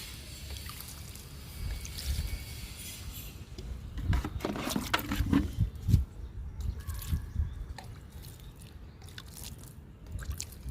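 Aloe vera liquid fertilizer is poured onto a potted daisy plant, a soft close trickle and wet splashing that swells in the middle and then eases into faint drips, with no speech.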